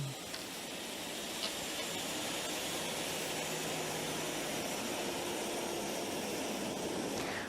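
A royal aircraft departs from Wing 21 air base with a steady, broad jet engine roar that holds evenly throughout, filling the air with no voices.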